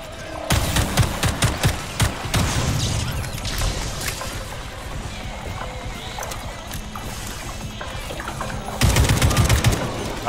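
An AK rifle in the video game Atomic Heart fires rapid bursts of automatic gunfire. The loud, sharp volleys cluster at the start and again near the end over a continuous rumbling game ambience.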